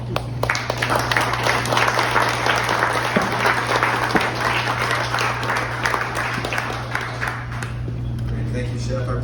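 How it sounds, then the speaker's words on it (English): Steady audience applause fills a restaurant's 33rd anniversary celebration, dense clapping from a sizeable crowd holding level for the whole stretch, with a low constant hum beneath and scattered voices mixed in. "I want another round of applause for our mayor."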